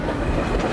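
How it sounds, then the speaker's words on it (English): A long train rolling past on rails near a river, loud and close with a steady rumble and rhythmic clickety-clack of wheels. "This is a long train."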